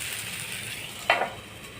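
Oil poured over a spring onion uttapam on a hot pan sets off a soft, steady sizzle, with a brief louder crackle burst in the middle before it settles back to a gentle hiss.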